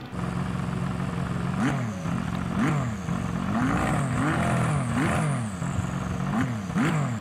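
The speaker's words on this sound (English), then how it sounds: "listen to the Ferrari engine right here" A high-revving Ferrari hypercar engine in Gran Turismo 7 climbs and drops repeatedly as gears shift, a loud, throaty, rhythmic rise-and-fall of revs.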